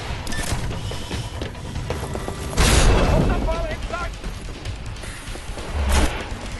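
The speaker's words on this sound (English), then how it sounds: "People are throwing bombs all around me." Bombs exploding and gunfire in the video game Titanfall, with heavy booms, rapid mechanical clatter and rattling shots in a busy, loud mix, two strong low blasts standing out.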